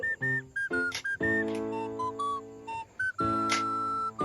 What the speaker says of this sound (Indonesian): Sandi Morse cahaya ini masih berkaitan dengan sandi Morse peluit, seperti huruf A yaitu titik strip.